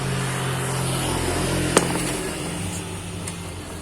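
Low steady mechanical hum and rumble of a Honda GX160 petrol engine with a jammed, low-compression fault being turned over up close, with a single sharp click partway through.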